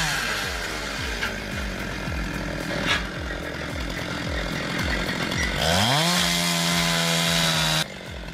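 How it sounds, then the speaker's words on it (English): A Woodland Bumblebee sawmill cuts through Douglas fir logs, its engine droning loud and near with a buzzing saw tone. Partway through, the engine revs up sharply and holds a higher pitch, then drops back. "The Woodland Bumblebee sawmill handles Douglas fir up to 24 inches wide, using stable rails and repeatable cuts."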